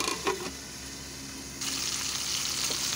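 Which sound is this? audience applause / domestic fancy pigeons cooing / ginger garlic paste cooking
ginger garlic paste cooking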